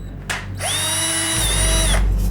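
Power drill whirring in a film scene from Final Destination, a steady high-pitched motor whine that spins up, holds for over a second and winds down, loud and close, with no talking.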